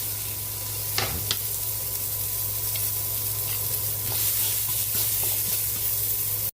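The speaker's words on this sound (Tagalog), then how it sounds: "Magigisa na tayo para sa ating miswa soup." Garlic and onion sautéing in hot oil in a pan for miswa soup, a steady close sizzle with a couple of sharp crackles near the start, no talking.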